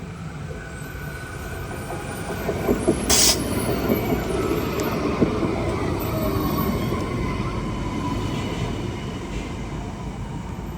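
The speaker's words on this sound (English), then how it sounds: "we have a Parramatta Light Rail vehicle approaching the Yallamundi stop headed towards Rose Hill" A Parramatta Light Rail tram rolls steadily closer to the Yallamundi stop with a continuous low rumble, and a brief high wheel squeal cuts through near the start.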